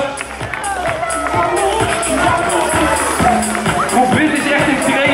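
Crowd of onlookers cheering and clapping for children in a school sponsored run, with a loud, continuous babble of voices close by and people talking over it.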